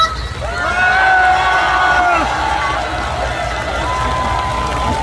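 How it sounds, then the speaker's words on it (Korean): A festival crowd at an outdoor concert at a sports ground in Goesan, held in the rain during the pepper festival, cheers and shouts, with scattered clapping mixed in and voices rising throughout. "여러분 함성 소리 한번 듣고 가볼까요? 다 같이 박수!"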